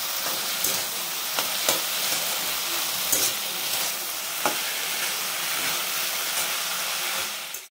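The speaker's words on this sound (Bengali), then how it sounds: "5 মিনিট মোচাটা ভেজে নিয়েছি। মোচাটা ভাজা হয়ে গিয়েছে।" Banana flower fries in a pan with a loud, continuous close sizzle and hiss, occasional stirring scrapes and clicks breaking through, steady throughout before cutting off at the end.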